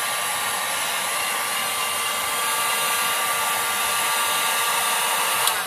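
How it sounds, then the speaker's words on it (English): Heat gun blowing hot air over the rough cut edges of a Harley Quinn pop gun prop, a steady loud broadband whoosh held without a break throughout, with no talking. "just take your heat gun and go over the edges"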